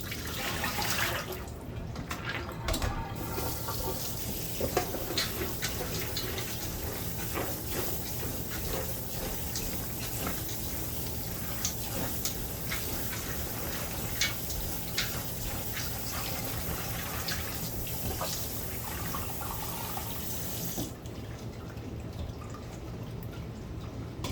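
Water runs steadily over soaked almonds being rinsed for almond milk, a continuous close splashing with small drips and trickles, then the flow cuts off near the end.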